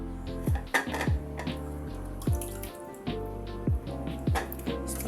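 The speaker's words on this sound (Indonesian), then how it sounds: "pindahkan ubi yang sudah dicuci tadi ke piring" Washed sweet potatoes are set onto a plate in a kitchen, giving repeated close clattering knocks and drips of water against a steady running-tap wash, with no talk.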